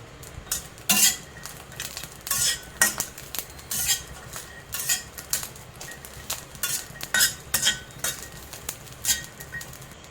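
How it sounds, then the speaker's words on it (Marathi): Garlic and green chillies dry-roasting in a pan for a spicy cluster-bean thecha, with a spoon scraping and clinking against the metal in irregular bursts, close and fairly loud, no voices. "लसूण पण याच्यातच भाजून घेत आहे"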